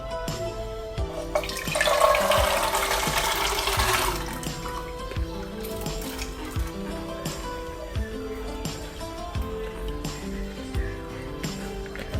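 Water splashes onto soybeans in a pot as they are prepared for boiling to make homemade tempe: a loud gushing pour of about two seconds, then quieter kitchen sounds.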